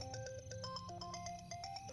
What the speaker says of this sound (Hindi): तेरा फोन बज रहा है, जाके उठा ले यार